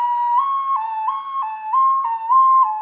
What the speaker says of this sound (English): These flutes have a slit at the bottom, which you can blow through to create music